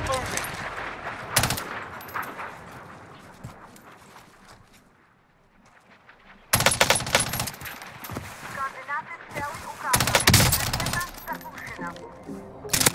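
Akimbo Sykov pistols fire full auto in a battle royale video game, bursts of rapid gunfire cracking loudly at close range, with a quieter lull in between and a player's excited voice over the shooting.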